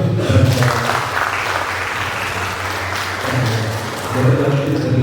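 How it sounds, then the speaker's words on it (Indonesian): Seated audience at a campus forum claps together in a steady, fairly loud round of applause that swells and eases over several seconds, with a low hum and faint voices underneath. "Tepuk tangan dulu."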